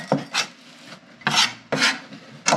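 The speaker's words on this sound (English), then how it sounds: "I'm going to use my rasp grater and just go through it this way." Fresh ginger rasped against a rasp grater in four distinct rough scraping strokes, each a bright gritty swish with short pauses between, close and clear with no talk.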